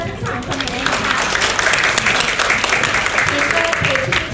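Applause for three teachers receiving small gifts at a school gathering, a continuous crowd of clapping hands at close range, with a voice speaking over it.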